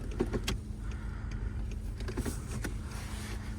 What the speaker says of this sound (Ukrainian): склопідйомники працюють